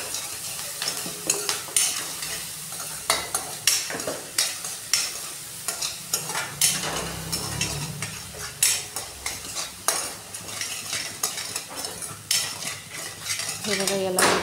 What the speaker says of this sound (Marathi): कांद्याला चांगलं परतू द्यायचं आहे।